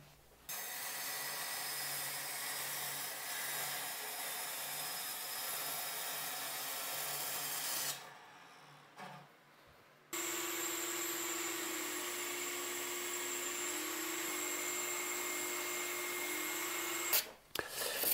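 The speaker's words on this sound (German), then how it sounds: "Ja, so schlecht ist der Spindelschleifer nicht." A spindle sander grinds a wooden runner for a racing toboggan, its steady motor whine and abrasive rasp running continuously, cutting out briefly mid-way, then resuming loud and even before stopping.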